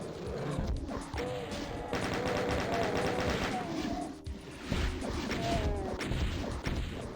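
Shotgun blasts aimed at a Baron in the Doom WAD TECHNOID, a dense run of repeated gunshots and impacts amid game noise and monster growls, loud and close throughout.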